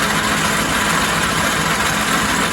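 A Logan 210 metal lathe runs steadily at 360 RPM while taking a 10 thou cut, a constant close mechanical drone and whir with no pauses or voices.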